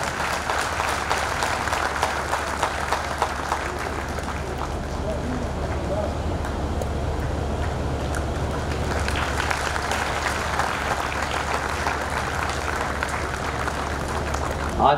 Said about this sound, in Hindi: हमारी जोरदार तालियों से इस पुरस्कार की पुष्टि करें।